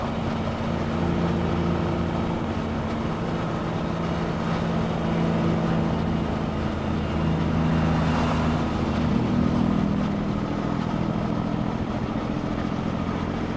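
A steady, droning truck engine rumble runs throughout, its low note shifting slightly partway through, with no voices over it.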